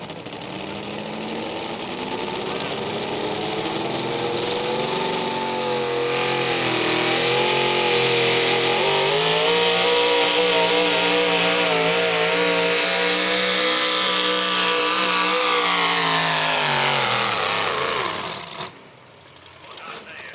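A tractor pulling vehicle of about 1,000 horsepower roars at full throttle during a pull-off competition, its engine revving up and holding a loud sustained scream for around eighteen seconds before cutting off, with an announcer's voice under it.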